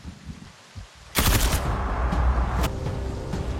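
A sudden loud gunshot bursts out in a film scene from Heart of the Hunter, with a quick rattle of follow-up shots and a lingering rumble after a quieter opening.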